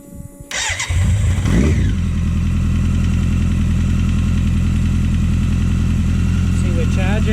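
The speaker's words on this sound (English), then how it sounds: "We'll start the bike." A BMW K100 motorcycle engine cranks briefly, catches and settles into a steady, close, even-pulsed idle that runs on without pause.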